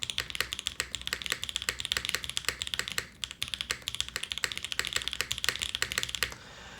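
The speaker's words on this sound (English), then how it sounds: "It leans to having a slightly bassier plastic sound, so when you type on it" Typing on a custom-built CW88 mechanical keyboard with a slightly bassy plastic tone, a fast, close run of crisp keystrokes with a brief pause midway.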